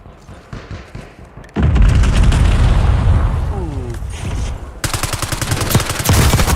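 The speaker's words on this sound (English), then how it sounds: "Missile strike on a nearby target." Loud booming blasts from a missile strike on a nearby target in a video game, swelling into a sustained roar and then a further burst of rapid impacts.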